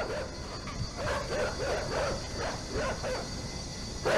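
Dogs barking in the video game Inside, a run of repeated yips and barks in a steady rhythm over a noisy game background.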